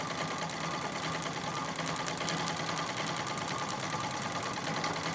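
A Singer 66 treadle sewing machine doing free motion quilting, a steady rapid mechanical whirring and clatter that runs evenly throughout, close and without talk.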